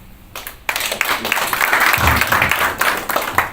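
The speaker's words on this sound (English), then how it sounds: "Another round of applause for Daktari for that good work." Audience applause for a speaker at a Kenyan film screening event on disability inclusion, starting abruptly after a quiet moment and continuing as dense, steady clapping from a room full of people.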